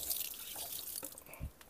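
Jaggery water is poured over goat feed, producing quiet, scattered drips and small wet splashes, with a soft splat near the end.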